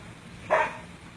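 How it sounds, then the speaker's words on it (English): A single short dog bark rings out once, fairly close, over a low steady background hum. "Barking is good, yes."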